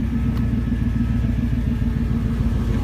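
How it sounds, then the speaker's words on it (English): A deep, steady engine rumble with a throaty tone from a two-door Tahoe's Flowmaster cat-back exhaust hums continuously up close, low and even, with no speech over it. "it's a Flowmaster, it's not the loud one, a nice little rumble to it"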